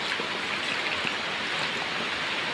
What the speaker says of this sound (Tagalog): pabagsak na naman yung malakas na ulan